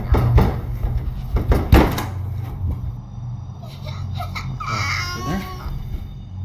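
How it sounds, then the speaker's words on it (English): Loud banging on a basement door, several heavy thumps close together near the start, then a quieter stretch with faint voices and some higher whining sounds. "a loud banging noise on the basement door is suddenly heard"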